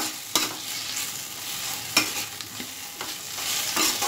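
A spoon stirs fried drumstick flowers with added sugar in a pan, giving soft scraping strokes at irregular intervals over a low sizzle, close and moderately quiet with no voices.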